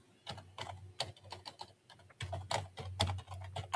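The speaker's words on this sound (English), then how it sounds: "I hear the typing." Close, quick typing on a computer keyboard, a dense run of sharp key clicks in uneven bursts with a short pause in the middle, heard alone.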